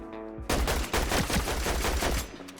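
Rapid bursts of gunfire from the video game Fortnite, loud and dense, firing almost continuously for about two seconds after a brief quiet start, then cutting off.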